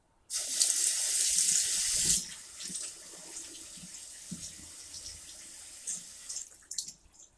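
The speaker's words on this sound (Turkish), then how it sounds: "Elimi yıkayacağım." Hands being washed under a running tap: a strong, steady gush of water starts abruptly, then drops to a softer trickle with small splashes and clatters, close by and quiet overall.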